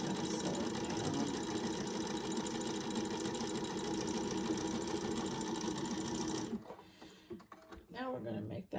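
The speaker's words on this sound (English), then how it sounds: "so we're just going to sew it down" A sewing machine runs steadily for several seconds, stitching fabric scraps together into trim, a close continuous rapid whir, then stops and gives way to quieter handling noises.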